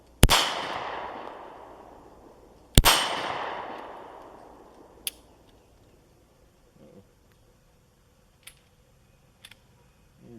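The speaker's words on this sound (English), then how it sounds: "as you can see on that last round, the round went off, but it didn't lock back" Two loud, sharp shots from an M&P Shield 9mm pistol, still in its break-in period, fired at an outdoor range a few seconds apart, each with a long decaying echo, followed by faint clicks and handling noises.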